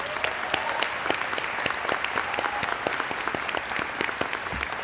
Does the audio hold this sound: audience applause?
yes